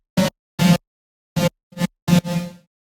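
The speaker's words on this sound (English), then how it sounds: "So by itself, the reverb chops sound like this." Short chopped bursts of reverb tail from a synth-style electronic track, five choppy washy hits in an uneven rhythm, the last one trailing off into a longer fading tail, loud and up close.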